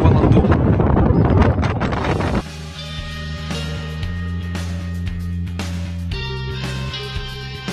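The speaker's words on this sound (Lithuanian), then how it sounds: "Baisus vėjas." Strong wind on the Cornwall coast buffeting the microphone in heavy, roaring gusts for a couple of seconds, then dropping to a calmer background with faint rustling.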